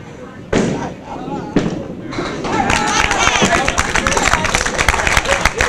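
A candlepin bowling crowd at a kids' division final bursts into loud cheering and clapping after sharp crashes of pins, with a commentator talking over the growing roar.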